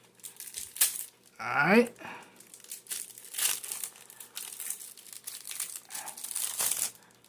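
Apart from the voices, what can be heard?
ripping open plastic packaging of a phone case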